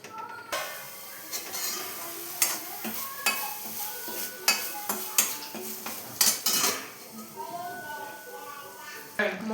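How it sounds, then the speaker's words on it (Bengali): Green peas are stir-fried in a pan, with a spoon or spatula repeatedly scraping and clanking against the metal over a light sizzle. The strokes come as irregular bursts with brief pauses between them. "মটরশুঁটিগুলোকে একটু ভাজা ভাজা করে নিচ্ছি"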